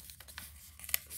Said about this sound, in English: So I'm gonna fold it down in the middle